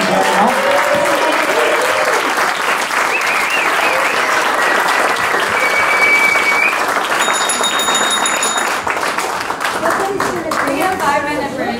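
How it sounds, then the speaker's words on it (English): Audience applause at a 2018 mayoral debate, sustained clapping filling the room for the full stretch, with voices and a few tonal sounds mixed in underneath. "Let's give them a round of applause"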